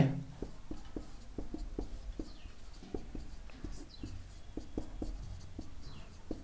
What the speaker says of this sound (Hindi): चलिए हम यहाँ पे लिख भी देते हैं।